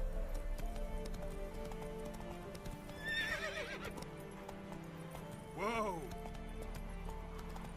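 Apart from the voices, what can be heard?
horse Roach galloping in video game The Witcher 3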